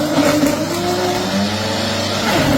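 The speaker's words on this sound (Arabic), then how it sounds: "ما انا قلت لك ان خلاط رافال قوي، الموتور بتاعه كمان نحاس" A powerful Rafal blender with a copper motor crushes ice: a loud, continuous motor whir with grinding churn runs unbroken and close for the whole moment.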